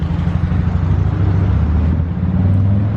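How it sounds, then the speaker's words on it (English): A 2017 Mercedes E300 idles right after start-up, its exhaust giving a steady, loud low rumble close by with no voices over it. "let's go ahead and unlock the car, start it up, and let you listen to the exhaust sound"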